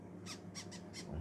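A newly hatched parrot chick in an egg incubator gives four faint, short, high squawks spaced evenly, with a quiet background hum and a soft thump near the end.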